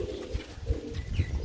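Pigeons cooing at close range, several low throaty coos repeating in a steady rhythm at moderate volume, with no talk over them.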